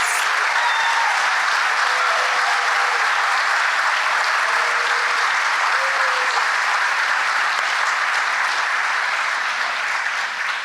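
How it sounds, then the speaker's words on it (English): A full round of applause for student award recipients at a university honors and awards ceremony, many hands clapping loudly and evenly for the whole stretch, a large indoor crowd with no speech over it. "could we please have one more round of applause for all of our award recipients?"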